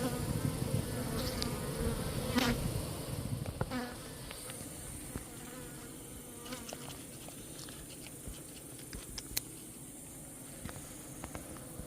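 Honeybees buzzing around a three-tier hive outdoors at night, a faint steady drone with occasional louder passes close by, no voices.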